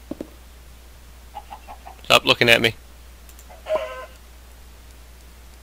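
A Minecraft chicken clucks in one short, close burst of sharp clicky calls against a quiet background, followed by a brief spoken line from a man.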